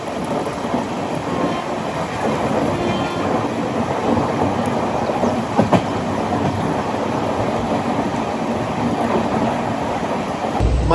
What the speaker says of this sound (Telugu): ఇప్పుడు వెళ్ళింది కదా బండి